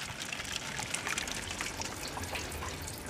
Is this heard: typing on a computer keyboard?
no